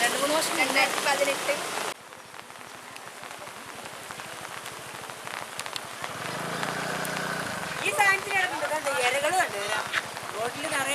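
Steady rain patters continuously on a surface, with voices talking over it throughout.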